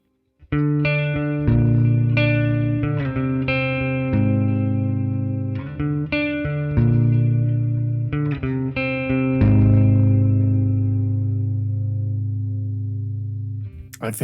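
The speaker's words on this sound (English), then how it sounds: "Now let's try to engage the reverb" Electric guitar played through a Neural DSP amp simulator with reverb, a distorted riff of chords and single notes with sustained ringing tails, loud and upfront. The final chord fades out slowly, and no one talks.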